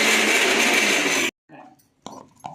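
A mixer grinder whirs loudly and steadily as it grinds soaked chana dal into vada batter, then cuts off abruptly, leaving quiet with a few faint knocks and brief voices afterward.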